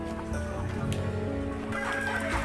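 A hen clucks nearby in short repeated throaty bursts, with soft background noise around her.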